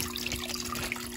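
Outdoor aquarium water is poured out, carrying crayfish into a tank, making a steady close splashing trickle with small bubbly spatters and no talk.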